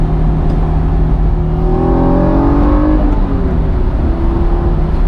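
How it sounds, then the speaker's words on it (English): Old car engine with its air intake on the near side, giving a steady rumbling induction roar that rises briefly in pitch midway and then settles, loud and continuous with no talking. "Oh, that's like a bit of the induction I can hear, right?"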